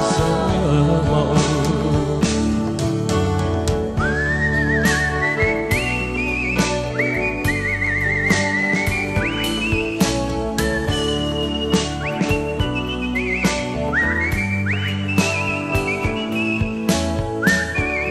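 A singer whistles his distinctive melody on stage at a live show, clear sliding whistled phrases over a full band accompaniment throughout.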